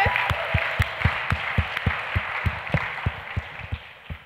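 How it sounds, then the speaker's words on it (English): A live comedy-show audience claps through a round of applause for contestants, with sharp, fairly regular individual claps standing out over a steady wash of crowd clapping, moderately loud and close. "round of applause for our contestants."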